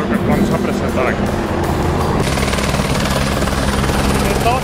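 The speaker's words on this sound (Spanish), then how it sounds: "Estamos a punto de subirnos al helicóptero para conocer el circuito de la SAR aquí en Le Mans" A helicopter at the Le Mans 24 Hours circuit makes a loud, continuous rotor and engine roar close by, with people talking over it.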